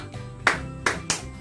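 A group at a church worship service claps a rhythmic cheer: three sharp, loud claps in unison with short uneven gaps between them. A faint low hum runs underneath.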